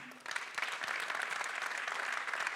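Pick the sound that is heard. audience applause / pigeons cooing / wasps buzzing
audience applause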